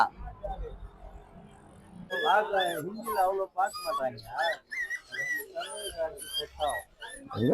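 Dog whimpers and yips, high and wavering, come in a rapid run of short cries after a quieter stretch, loud and close, with low voices murmuring underneath.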